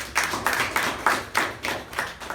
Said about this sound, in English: Ladies and gentlemen, give him a big round of applause.